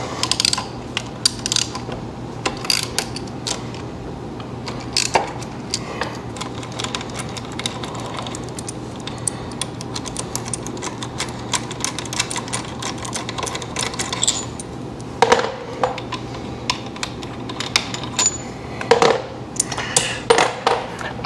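Bolts are removed to free the brake caliper from an R1200RTW motorcycle wheel: irregular metallic clicks, ratcheting and small clinks of tools and parts, close and steady throughout, with no voices.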